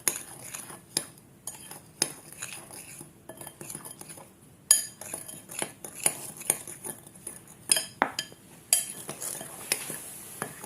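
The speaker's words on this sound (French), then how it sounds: "On rajoute un peu, on continue à mélanger, hein." Utensil stirring an effervescent mixture in a bowl, with irregular clinks and scrapes against the dish at varying intervals, close and fairly quiet.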